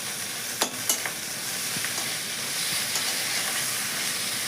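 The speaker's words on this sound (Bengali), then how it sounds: "আমার পেঁয়াজ রসুনটা খুব সুন্দর লাল লাল করে ভাজা হয়ে গেছে" Onion and garlic sizzling in oil in a pan with ginger paste going in, a continuous bright frying hiss punctuated by a few sharp crackles and stirring scrapes.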